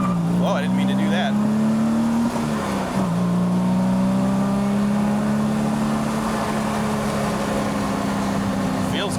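A 1969 Jaguar E-Type on the road, its engine holding a steady drone that rises as it accelerates, briefly dipping around a gear change, heard close and continuous for several seconds.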